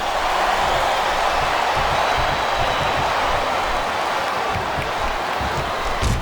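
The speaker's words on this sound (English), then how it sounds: "this crowd can't get enough of it" Steady roar of an arena crowd in the wrestling video game WWE SmackDown vs Raw 2008, broadband and continuous for the whole stretch without clear peaks or voices on top.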